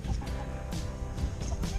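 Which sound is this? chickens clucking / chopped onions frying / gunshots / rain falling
chickens clucking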